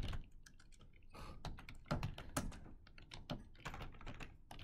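Quick, irregular typing on a computer keyboard, with close, crisp key clicks in uneven bursts and no one speaking.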